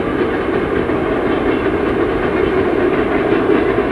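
A commuter electric train rolls past on the railway at Khortytsia in Zaporizhzhia in winter, a steady, loud, broadband rumble and rush of wheels on rails that holds for the whole stretch with no talking.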